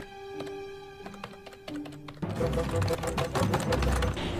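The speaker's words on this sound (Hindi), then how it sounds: "मेरा टाइपिंग कुछ इस तरीके का है" Someone types on a computer keyboard with a quick, irregular run of close clicks, first alone against a tonal hum and then under louder background noise.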